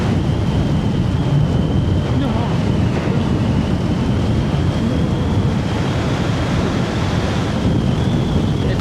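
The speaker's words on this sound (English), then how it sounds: "Oh my gosh, it's crazy windy." Strong wind roars and buffets the microphone without a break, a loud, dense rush with a faint steady tone running through it.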